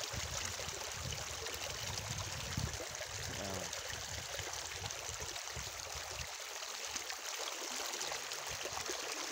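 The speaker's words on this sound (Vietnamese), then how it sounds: "Suối đẹp quá đẹp." Mountain stream flowing through hilly countryside, a steady, close, rushing water noise that continues without pause the whole time.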